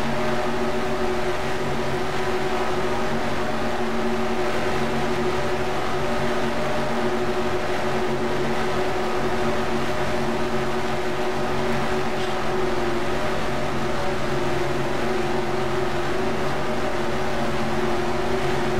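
Steady race car engine drone in the NR2003 racing sim during the Daytona 500, a constant humming tone with layered harmonics holding unchanged and loud throughout with no breaks.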